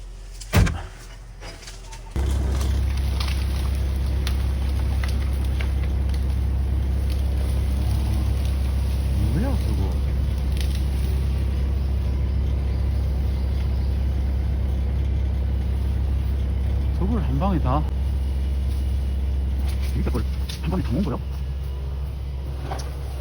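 A Volvo excavator's engine catches with a sharp thump after a short quiet stretch and then keeps running at a loud, steady rumbling idle, with a high whine on top and occasional voices underneath.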